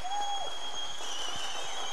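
A studio audience at a Turkish folk music show claps steadily, a dense wash of applause with faint voices beneath it.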